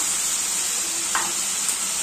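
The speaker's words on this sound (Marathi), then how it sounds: "आता आपण छान नरम होईपर्यंत हलवून घेऊया।" Tomatoes stirred in hot tempering oil in a pan give a steady, close sizzle with faint scraping touches throughout, no voices.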